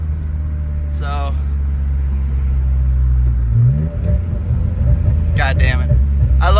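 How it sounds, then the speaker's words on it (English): A BMW E46 M3 engine drones loudly while driving, a deep steady rumble that climbs in pitch as it revs, with brief voice fragments over it. "I love how this car sounds though."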